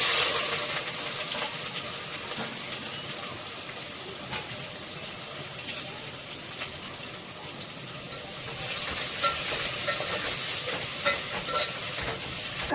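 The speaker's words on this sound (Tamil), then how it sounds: "இப்போ எண்ணெய் நல்லா சூடாயிடுச்சு. இப்போ வந்து ஏலக்காய், கிராம்பு, பட்டை போட்டுக்கலாம்." Whole cardamom, cloves and cinnamon sizzle in hot oil in a home kitchen, a steady crackling fry with occasional stirring scrapes, a brief louder burst of spitting near the end, no one speaking.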